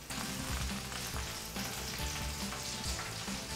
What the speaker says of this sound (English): It's not even like 5 minutes into the bake yet, and it's already fat sizzling everywhere.